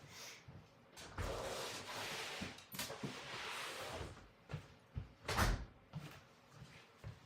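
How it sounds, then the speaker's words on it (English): Indoor house door opened to let a dog out into fresh snow: a series of soft thuds, rattles and a latch click, fairly quiet and close, with brief bumps scattered across a few seconds. "Now, let me open the door for her, just a second."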